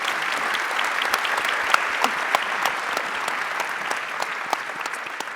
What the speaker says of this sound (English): please give a round of applause to those here on stage